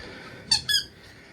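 A squeaky weasel toy gives two quick, high squeaks in close succession, loud and near against a quiet background.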